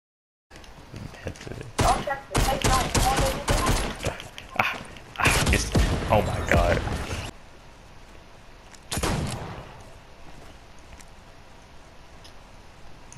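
Gunfire in the video game Fortnite on a desert map, dense rapid bursts of shots and mechanical clatter for several seconds, a pause, then one more short burst.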